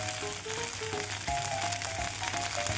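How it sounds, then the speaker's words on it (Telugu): Drumstick leaves crackle and sizzle as they fry in a large pan, a steady dense hiss with scattered pops and a faint tonal whine running throughout, no voices. "ఇది ఒక పక్కకు జరిపేసి మనం ఆకుని కూడా బాగా ఫ్రై చేసుకోవచ్చు."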